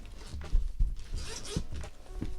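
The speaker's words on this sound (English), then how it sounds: "So let's unzip this thing" A zipper is drawn open along a Hover Camera X1 carrying case, a steady scratchy rasp lasting a couple of seconds with a few soft knocks from handling, close by and without speech.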